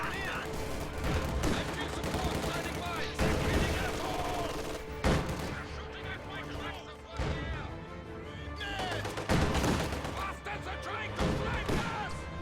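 A quad-mount anti-aircraft gun fires in a World War II tank strategy game, with bursts of rapid, loud gunfire and crashing impacts repeating across the scene, mixed with other battlefield sounds.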